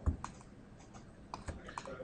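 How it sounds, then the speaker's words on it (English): Light, scattered keystrokes on a computer keyboard enter an offset value while modeling a beach house floor, faint and close with soft irregular taps. "just by typing an offset value in there, 60 mil"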